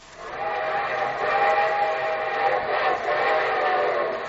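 A steam-style train whistle blows in a long, steady chord on a radio show, sounding loud and close with a rumbling rail background throughout.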